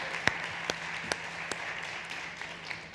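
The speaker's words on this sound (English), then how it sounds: "One more time, a big round of applause from Jordi from WeCover." A few sparse, widely spaced claps ring out faintly at a startup pitch competition, with quiet room tone between them after a fintech founder's pitch.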